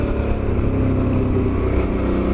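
A Suzuki V-Strom motorbike engine drones steadily while being ridden, loaded with luggage on new tyres along a twisting road, a close, loud, continuous hum with faint wind rush.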